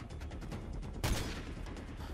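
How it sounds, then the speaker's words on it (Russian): Gunfire in the shooter Call of Duty: Modern Warfare 3, a sustained battle din with one loud close burst of shots in the middle, standing out above a dense background of combat noise. "Кто стреляет?"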